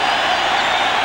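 A baseball stadium crowd at the 1996 World Series Game 1 between Atlanta and the New York Yankees, a steady, dense roar of cheering that holds level throughout the moment.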